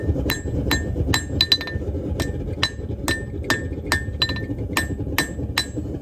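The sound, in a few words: light hammer forging an old horseshoe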